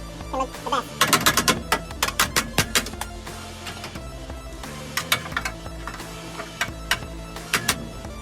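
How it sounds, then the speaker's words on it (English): Tack welding a metal patch plate onto a car's body in an engine bay, heard as a series of sharp, crackling bursts of varying length with short pauses between them, close and fairly loud. "I just tag welded that plate onto the body"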